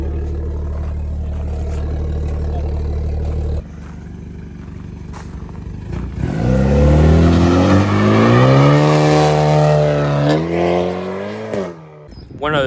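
A BMW 440 with a B58 engine and newly installed big turbo runs steadily at idle, then revs up loudly and holds high before dropping back, close to the car with no talking.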